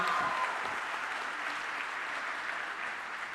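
An audience applauds in welcome for the Ayush minister Prataprao Ganpatrao Jadhav at a public event in Puri, a fairly quiet, steady wash of clapping that fades slightly across a few seconds.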